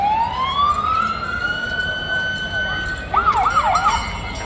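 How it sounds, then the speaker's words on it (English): An emergency vehicle siren sounds during a country-town Easter parade in Warracknabeal, with a long rising wail that switches to a fast, warbling yelp partway through, clear and fairly loud over the street ambience. "Some sirens coming in the background, making it funny."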